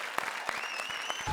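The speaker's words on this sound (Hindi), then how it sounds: "जोरदार तालियां ब्रजेश और भारती के लिए।" A studio audience at a televised comedy circus show applauds in a brief, fairly faint patter of scattered claps.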